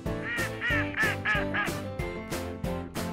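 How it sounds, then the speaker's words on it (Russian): Duck quacking in a children's animal learning segment, a rapid run of nasal quacks, close and steady, with no speech over it. "Утка."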